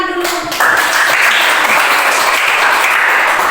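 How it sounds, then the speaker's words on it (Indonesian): An audience at an Indonesian talent presentation breaks into applause: after a brief pause it swells abruptly into a full, even round of clapping that continues steadily to the end. "Oke, tepuk tangan dulu."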